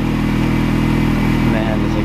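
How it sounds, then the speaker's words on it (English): Aftermarket Derenza exhaust on a Mini Cooper R53 gives a loud, deep, steady burbling drone with a strong low pulse, heard close up. "This exhaust sound, dude."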